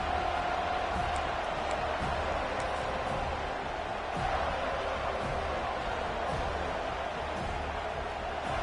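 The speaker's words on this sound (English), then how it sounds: "Listen to the crowd energy here in the early going." A big football stadium crowd roars and murmurs in a steady, dense wash throughout the early minutes of a college game, loud and continuous with no clear breaks.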